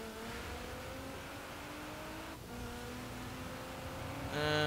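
A 2018 Kia Stinger driven around an autocross course in Forza Horizon 4, its engine droning steadily with rising and falling revs, a brief lift around the midpoint, then a sharp high rev at the end.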